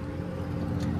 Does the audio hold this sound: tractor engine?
yes